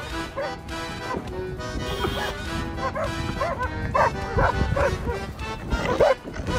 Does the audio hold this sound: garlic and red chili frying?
no